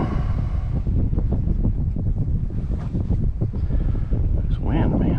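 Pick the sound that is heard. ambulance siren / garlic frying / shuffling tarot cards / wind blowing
wind blowing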